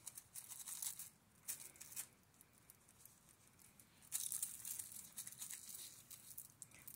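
A small piece of Press and Seal plastic wrap is pulled and cut, giving faint crinkling and tearing sounds in short quiet bursts with pauses between, close by and without talk.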